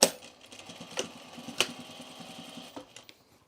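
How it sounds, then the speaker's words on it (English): A sewing machine understitches a trouser facing, its needle running in a quick, even mechanical patter with a few sharp clicks and thumps, fairly faint and close; no talking. "now we're going to understitch this"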